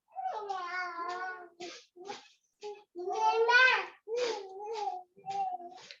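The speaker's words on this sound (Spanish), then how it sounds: "Ya no tengo instalado el programa que me deshabilita el audio de los bebés." Babies cry in the background, with wavering, strongly pitched wails rising and breaking in several bursts across the stretch, fairly close and clear with no talk over them.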